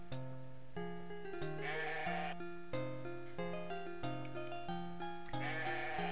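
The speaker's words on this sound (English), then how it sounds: "That's a mean-looking old ewe." Wavering, sheep-like bleats from an old ewe in the game Conquests of the Longbow sound over a looping electronic game melody that keeps playing steadily throughout, with no voices.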